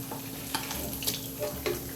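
Crab cakes sizzle in a hot pan just after being flipped, a faint steady frying crackle with a few soft clicks and scrapes of a utensil.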